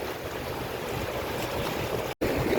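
Garden Route floodwater rushes into a river in a constant broadband roar that holds steady throughout. One very brief dropout breaks it near the end.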